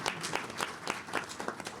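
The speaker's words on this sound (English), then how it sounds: "Let's give our panelists one more hand of applause" Audience applause for a panel at a firearm injury prevention health care event, a steady patter of many hands clapping at moderate loudness, with no one talking over it.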